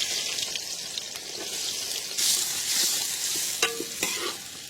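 Onions, cinnamon and fennel frying in oil for chicken biryani, a steady close sizzle with stirring scrapes and a couple of sharp metallic knocks near the end.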